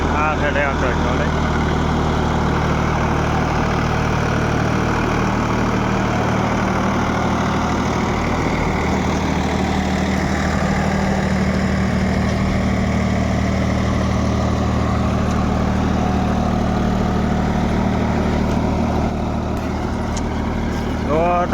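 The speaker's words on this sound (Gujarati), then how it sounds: "આ છે ટ્રેક્ટર ચાલે" Tractor engine running on a farm, a constant low rumble and idle throb holding steady throughout with people talking over it.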